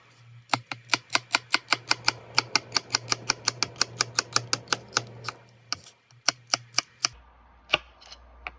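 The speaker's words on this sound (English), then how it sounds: "This is just me cutting some celery really quick." Knife chopping celery on a cutting board: a rapid run of about two dozen sharp, evenly spaced chops up close, then a brief pause and a few slower final cuts.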